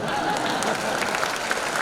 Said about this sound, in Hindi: आप ऐसे ताली बजा रहे हो जैसे आप आखिरी रोटी तवे पे डालने वाली हो